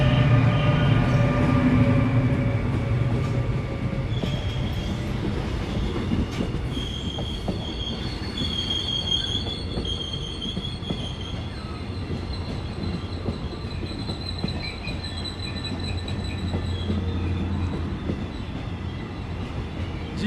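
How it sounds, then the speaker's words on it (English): Low-cost passenger train on the Seoul to Busan line passing nearby, a continuous loud rumble with squealing wheels and high metallic tones, steady for about twenty seconds. "exactly right now is train coming. Yeah, this is the low cost train."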